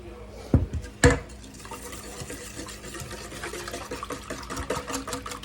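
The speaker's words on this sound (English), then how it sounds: "See if we can get that stirred up in there a little bit with that sugar." A spoon stirs rice pudding with sugar and butter in a pot. Two sharp clanks come first, then continuous close wet scraping and swishing.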